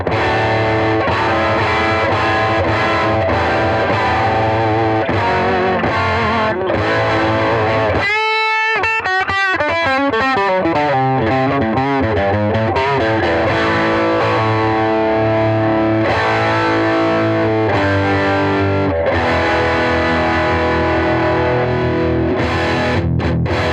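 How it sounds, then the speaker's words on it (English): Electric guitar played through a Bugera V22 Infinium tube amp with a Turbo Sound 12-inch speaker, boost switched off, giving a scooped, mid-light distorted tone; continuous loud riffing with a brief pause and sustained chord around the middle, no talking. "when I disengage the boost, it sounds scooped and lacking in mid-range."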